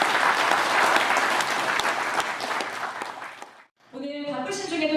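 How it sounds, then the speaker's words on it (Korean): An audience at a book launch event gives a round of applause, dense clapping that gradually thins and fades out, followed by a brief pause before a voice starts speaking over a microphone. "큰 박수 부탁드립니다."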